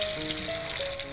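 Potatoes fry in oil in a pan on a stove, giving a steady, close sizzle with faint crackling throughout and no voices.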